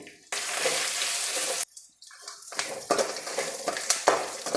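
Two lengthwise-sliced onions hit hot oil with a loud, steady sizzle, then the frying crackles on more unevenly with stirring scrapes and bursts of spitting.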